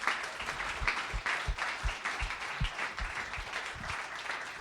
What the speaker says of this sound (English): give a round of applause to Ben and Pat and Dave